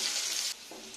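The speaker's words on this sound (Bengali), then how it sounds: "ভালো করে ভাজা ভাজা করে নিচ্ছি আমি" Potatoes frying in a pan for spicy alur dum, a brief, close sizzle that drops suddenly halfway through, followed by a soft stir.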